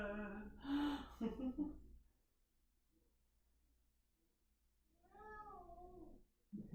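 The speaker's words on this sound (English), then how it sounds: "She's meowing back." A pet cat meows at home, with a couple of whiny, gasping cries up close and loud, a quiet pause, then a longer drawn-out meow near the end.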